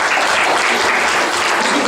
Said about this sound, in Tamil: இன்னொரு கைத்தட்டு